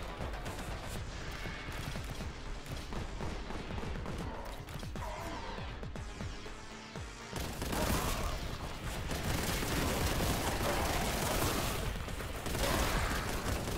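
Heavy bolter fired in Warhammer 40k: Boltgun, a dense, continuous barrage of rapid heavy gunfire with clanking mechanisms, growing louder and fuller about halfway through and running throughout without a break.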